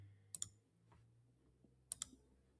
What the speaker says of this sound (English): So all I'm doing is clicking.